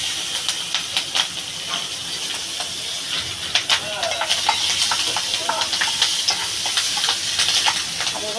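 Green chilies dropped into hot oil for palak dal, giving a steady, bright sizzling hiss with small crackles that builds slightly, close up and without talk.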